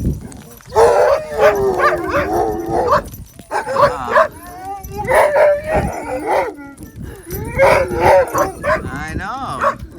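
Several sled dogs in an Arctic snowstorm bark, howl and whimper close by in repeated bursts, with people talking among the noise.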